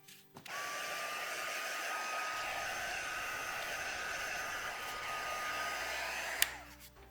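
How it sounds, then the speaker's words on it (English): A heat gun drying a wet painted journal page gives a steady, fairly quiet whirring blow with a thin whine. It runs unbroken for several seconds, then clicks off near the end. "That page is still a little bit too wet, so we might do a bit more heat gunning, and Matthew might have to just take out or"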